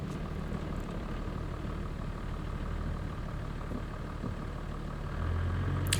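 A 4WD vehicle's engine labours steadily along a muddy bush track in Lerderderg State Park, a constant close rumble that grows a little louder toward the end.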